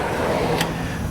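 A stiff, seldom-used drawer in a tool box slides open with a steady, rough scraping rasp that lasts about a second, plus a brief brighter scrape midway through.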